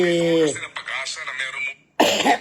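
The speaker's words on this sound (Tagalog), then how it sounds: "medyo nag-ubo-ubo pa rin tayo po because change of weather condition po" Close, fairly loud coughing, a few harsh bursts mixed with throaty voiced sounds, then a short pause before a final cough.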